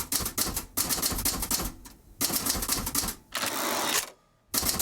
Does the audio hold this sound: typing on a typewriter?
yes